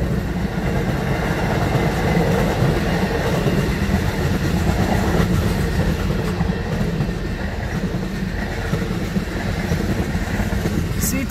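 CN freight train L563 passing at Ladysmith, a loud, close, continuous rumble of rolling railcars with steady wheel clatter throughout.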